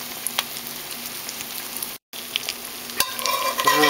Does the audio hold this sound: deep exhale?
no